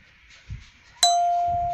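A single bright electronic chime rings out loudly and sustains, after a soft thud just before it.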